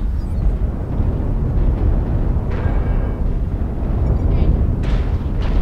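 A mech blowing apart in the online combat game MechWarrior Online, a dense, roaring explosion rumble that fills the whole clip with a few sharper bursts on top, under occasional talk.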